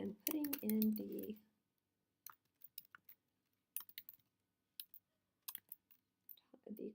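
Sparse computer keyboard taps and mouse clicks come in short, scattered bursts while a bar chart is built in a spreadsheet. A brief stretch of speech opens the recording before the quiet clicking takes over.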